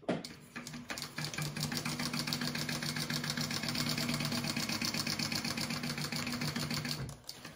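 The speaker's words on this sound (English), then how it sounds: "We're going to sew along the bottom of that at a 1/8 inch seam allowance" A sewing machine runs steadily stitching a wallet seam at a 1/8 inch allowance, a fast even mechanical whir and rapid needle ticking, close and alone, stopping near the end.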